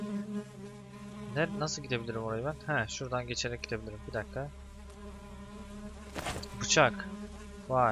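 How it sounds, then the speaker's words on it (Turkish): In the Black Faith pre-alpha video game, a housefly drones with a persistent, close buzzing hum that runs throughout while someone speaks over it. "bu sinek sesi çok iyi"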